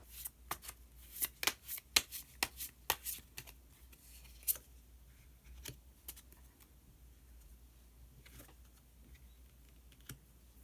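Tarot cards are shuffled in a quick flurry of close riffling snaps. Then come a few sparse flicks and slides as a card is drawn, quiet in the room, with no one speaking.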